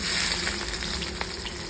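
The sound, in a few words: onions frying in oil with spices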